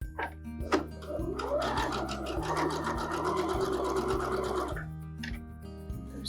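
A sewing machine stitches steadily for several seconds along a shopping bag seam, a whirring mechanical rattle that starts and stops close by, with no talking over it.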